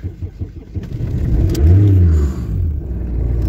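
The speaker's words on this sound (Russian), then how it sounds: "Сильно газанула. Без газа теперь не заводится машина," Car engine revved hard while being started, a car that will now only start with the accelerator pressed; a close, loud mid-pitched rev that rises and swells for a second or two, then settles into a steady idle.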